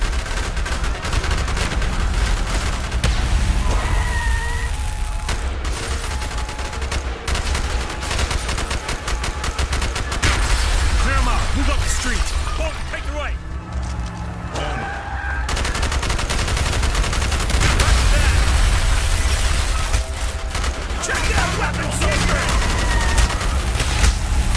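Dense gunfire from a Call of Duty Black Ops campaign street battle, with rapid automatic bursts and overlapping shots continuing without pause, loud and close, with bits of shouting mixed in.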